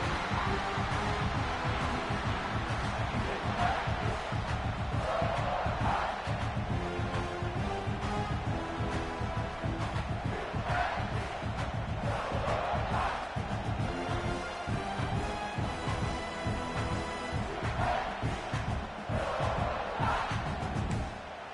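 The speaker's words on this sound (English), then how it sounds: "This crowd bringing the energy and noise early." A large stadium crowd at a South Carolina vs Tulane football game roars continuously, a dense wash of cheering and shouting with no pauses.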